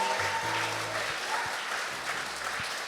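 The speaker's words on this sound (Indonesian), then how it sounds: "Bapak Ibu bisa sekali lagi berikan sorak-sorai yang meriah buat Tuhan Yesus" Church congregation applauding and cheering at a thanksgiving service, a steady wash of many hands clapping at close range, with a low organ or keyboard tone sustained beneath it.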